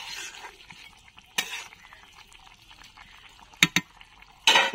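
Small chuna fish are stirred and mixed in a pan, making scattered scrapes and a soft simmering hiss, broken by several sharp metallic clanks of a spoon against the pan.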